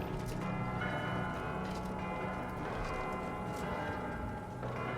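Bells ring in the video game Outer Worlds 2. The chimes are quiet and overlapping, with clear strikes recurring over a faint continuous tone.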